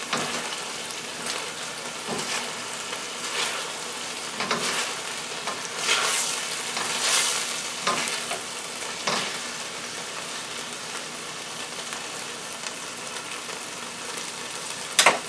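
Steady crackling sizzle of chicken fried rice with bok choy frying in a hot pan, with occasional louder bursts as it's stirred, close and continuous without talk.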